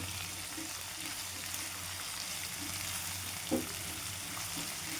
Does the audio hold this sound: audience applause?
no